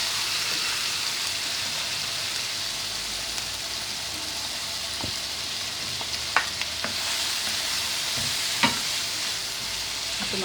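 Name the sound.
meat boti frying on high heat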